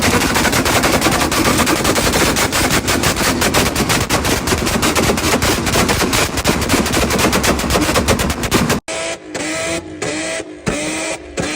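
A Honda S2000 on two-step launch control fires rapid, loud, crackling exhaust pops in a fast machine-gun burst at a car show, then a few sharper separate bangs.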